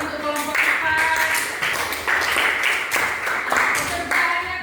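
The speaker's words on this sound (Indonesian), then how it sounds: "Tepuk tangan untuk kelompok 4." A class claps for group 4 after a presentation on water hyacinth weaving, a dense, steady patter of hands running throughout with voices mixed in.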